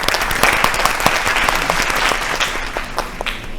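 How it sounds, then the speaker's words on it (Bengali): Loud, dense applause from a Bengali family game show studio audience, a steady wash of clapping sustained through the whole moment without speech. "হাততালি জোরে"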